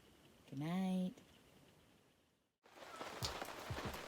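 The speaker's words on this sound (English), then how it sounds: "now we can hear the rain outside" Rain patters steadily on a tent at a campsite, a soft, close hiss of drops that fills the second half after a brief pause, with a faint tonal sound heard earlier.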